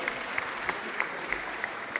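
Audience applauding the Ollolai choir at a live event, a soft, fairly distant patter of many hands with a few sharper individual claps standing out, no talk.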